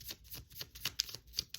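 A deck of tarot cards being shuffled up close, a quick run of crisp riffling flutters and soft slaps in a rapid, uneven rhythm.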